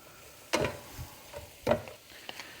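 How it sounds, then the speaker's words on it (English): Pasta casserole mixture stirred in a pan, two distinct scraping strokes with softer rustles between them, close and fairly quiet, no voices. "So just keep stirring it."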